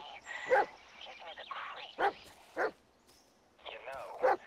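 A dog barks in the VR horror game Blair Witch, set in woods, with three or four sharp barks spaced across a few seconds over ongoing talk.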